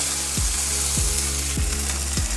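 Garlic and onion frying in hot oil in a pan on low heat, a steady bright sizzle with a faint rhythmic scrape repeating about every half second, no voices.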